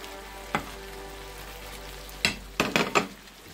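A cup of sliced onions added to beef frying in oil for beef kala bhuna, with a steady sizzle under a few sharp clatters and stirring scrapes near the end.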